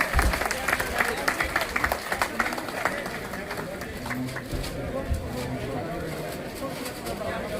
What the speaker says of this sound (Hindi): आप सब लोग इनका तालियां बजाकर स्वागत